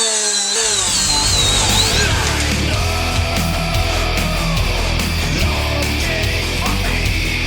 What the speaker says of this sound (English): 2485 90 degree die grinder. It's an M12.